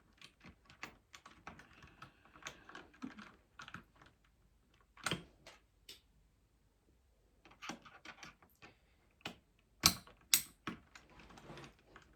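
Keys clacking on a Magegee MK STAR75 mechanical keyboard, scattered sharp taps and a few louder presses spread irregularly over quiet gaps, close and alone.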